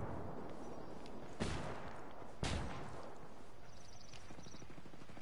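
Two sharp, loud gunshot cracks in Ghost Recon ring out about a second apart over a low rumbling game ambience, followed by faint mechanical clicks.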